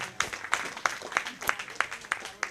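Audience applause for a teacher at a Rangmanch Seva Foundation Trust stage event in Ahmedabad: steady, evenly spaced claps repeating roughly three times a second, moderately loud and close.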